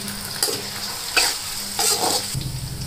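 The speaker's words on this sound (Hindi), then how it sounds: "अब इसमें 2 मीडियम साइज के स्लाइस में कटे हुए प्याज डाल देंगे। अब इनको मैं गोल्डन फ्राई तक फ्राई कर लूँगी।" Sliced onions sizzling and crackling in hot oil toward golden brown, with a steady frying hiss and occasional stirring scrapes, close up and without speech.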